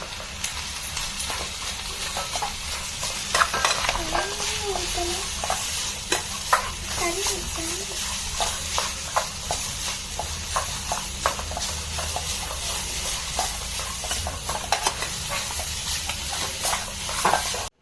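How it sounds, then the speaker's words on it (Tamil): A spoon scrapes and stirs instant noodles with idli masala in a hot pan close up, with repeated clanks and a steady sizzle underneath. "இட்லி மசாலாவை இப்போ நல்லா மிக்ஸ் பண்ணிக்கலாம்"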